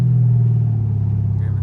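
A straight-piped widebody Dodge Charger Scat Pack at wide-open throttle gives a loud, close, sustained low exhaust drone with a steady pulsing rumble.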